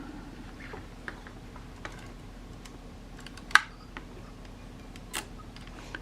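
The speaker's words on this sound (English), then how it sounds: "We'll try cocking the shutter." A Kodak Retina IIa camera shutter gets cocked and fired, sounding as faint mechanical clicks and ticks against quiet hiss, with one sharp, louder snap in the middle.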